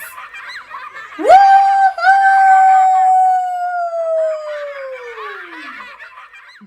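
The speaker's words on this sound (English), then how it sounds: "All the little monsters broke out into a howl of happiness." A long, wavering howl that rises sharply then slowly falls away over several seconds, layered with higher yelping voices, close and loud, from little monsters in a read-aloud children's story.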